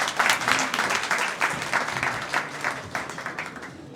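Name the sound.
audience applause welcoming guest speaker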